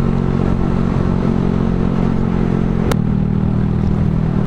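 A Grom MSX125 motorcycle fitted with a $99 Chinese aftermarket exhaust from Amazon, ridden at about 40 mph. Its loud, steady engine drone stays close throughout, broken by one sharp click.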